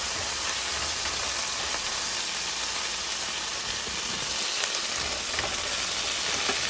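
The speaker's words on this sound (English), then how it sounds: "About 3 cloves of garlic, guys. So we'll let this fry in here." Garlic, about three cloves, frying in a pan for a filet mignon and asparagus dish, giving a steady close hiss and sizzle with a faint crackle that holds level throughout, no one speaking.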